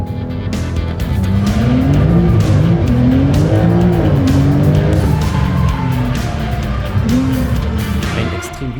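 A Brabus Rocket car accelerating and braking hard in a parking lot, with loud rising and falling engine tones, tire squeal and skidding, heard close and continuous.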